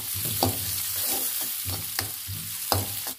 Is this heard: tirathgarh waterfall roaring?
no